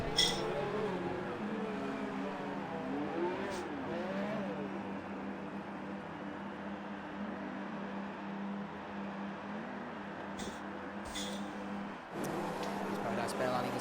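Race cars in a Spanish Grand Prix racing video game sit idling on the grid, a steady engine drone running beneath continuous commentary.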